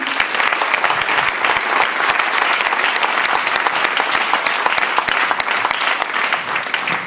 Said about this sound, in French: On peut applaudir cette personne